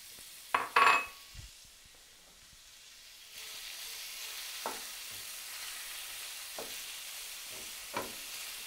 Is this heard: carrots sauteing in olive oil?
yes